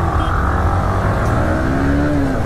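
Car engine held at high revs with the clutch slipping, a steady dense roar with a rising whine, close and loud throughout, heard at night on the road.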